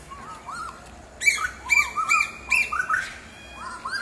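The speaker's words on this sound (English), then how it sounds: "She's squawking off her guts." A bird squawks repeatedly in a quick series of harsh, ringing calls, fairly near and loud, with a few softer chirps around them.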